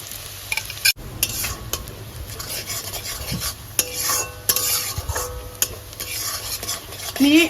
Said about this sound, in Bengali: ওই তেলের উপর দিয়ে দেবো মাঝারি সাইজের 2টো পেঁয়াজ কুচি